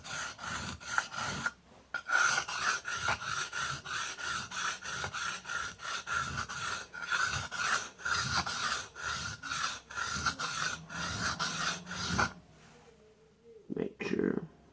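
Steel knife blade stroked back and forth across a whetstone in a long run of steady, rhythmic rasping strokes, close and fairly loud, with a brief pause near the start and a short break and breath-like sounds at the end.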